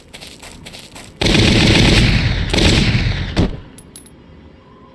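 Shock trooper gunfire in the Valkyria Chronicles video game: a loud, dense burst of rapid automatic fire lasting about two seconds, then another sustained burst and a sharp final shot before fading to quiet game ambience.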